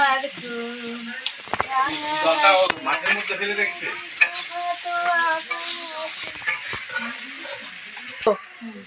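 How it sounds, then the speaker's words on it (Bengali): Potatoes fry in a pan with a close, bright sizzle and stirring clatter, partly masked by voices speaking over it throughout. "আলুগুলো ভেজে নিচ্ছি"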